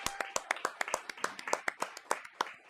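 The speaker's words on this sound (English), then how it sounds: "Let's clap for her first." Sparse audience clapping at a Franklin Special District school board meeting for a kindergarten Artist of the Month, a string of distinct, fairly close hand claps with uneven rhythm and some murmuring voices beneath.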